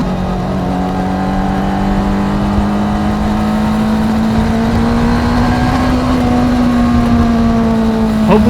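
A Honda CBR600RR sport motorcycle rides fast down a bumpy road, its engine droning loud and steady with a rising pitch that climbs gradually under acceleration, accompanied by heavy wind rush throughout.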